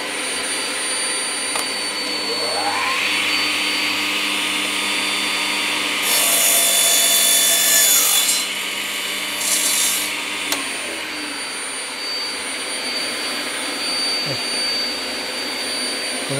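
A saw cuts through wood while a Scheppach HA1000 chip extractor runs, its steady vacuum-like roar continuous throughout, with rasping cutting noise rising in the middle, loud and close, no talk.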